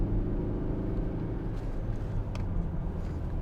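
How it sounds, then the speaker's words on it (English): A Hyundai i40 Style five-door with a 1.7 CRDi diesel engine is on the move. From inside the cabin it gives a steady, low engine and road rumble with a few faint knocks. "First time I've driven one of these, the i40."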